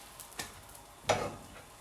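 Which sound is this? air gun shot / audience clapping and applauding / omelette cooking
omelette cooking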